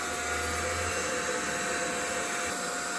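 A steady, loud motorized whirring hum from a window-cleaning robot that runs unbroken throughout, like a small suction appliance running nearby.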